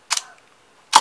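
Two sharp mechanical camera shutter clicks, close and crisp, separated by almost a second of quiet.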